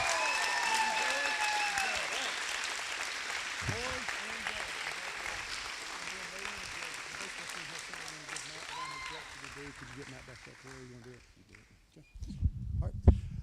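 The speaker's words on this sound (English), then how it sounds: "All right, let's give them a round of applause" Audience applause at a spring sports banquet for the boy and girl athletes of the year, a broad steady crowd clapping that gradually thins and fades over the clip, with a voice speaking over it near the end.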